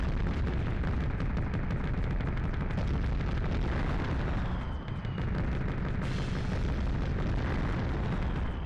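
Tank combat in the PlayStation game Mass Destruction: dense, continuous explosions and rapid gunfire, booming blasts layered over rattling shots, loud and relentless with no break or voices.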